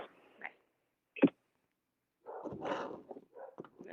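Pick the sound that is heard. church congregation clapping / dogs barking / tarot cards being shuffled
dogs barking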